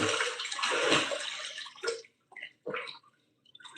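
Tap water gushes steadily into a bathtub for a couple of seconds, then the flow stops and a few short splashes and drips follow.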